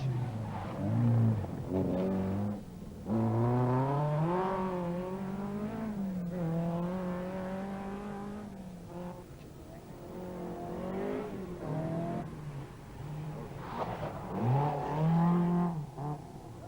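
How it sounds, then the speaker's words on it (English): A Ford Escort rally car on a stage of a 1983/1984 rally event, its engine revving hard with rising and falling pitch through gear changes, loud and close, then easing off before surging again near the end. "McKinstry is pushing his Escort to the limit"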